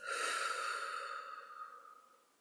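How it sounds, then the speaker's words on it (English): One slow, deep breath drawn in through the nose and let out through the mouth during a guided dowsing class exercise, a soft airy rush that fades away gradually, close by with no talking. "Breathing in through your nose and out through your mouth."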